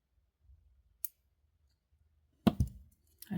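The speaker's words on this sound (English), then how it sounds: "And hear the metal clicking together" A small metal jump ring snaps closed on a wire necklace with a clasp, giving a tiny sharp click after near silence, followed by a couple of louder handling clicks and rustles close up.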